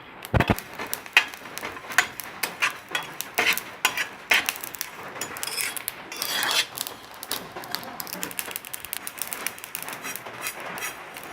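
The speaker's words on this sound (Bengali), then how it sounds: "ধনে এবং গোটা মৌরিটা ভেজে নেব।" Whole coriander and fennel seeds are dry-roasted and stirred in a pan, giving continuous dry scraping and rattling with irregular clicks and rasps throughout, close and moderately loud, no talking.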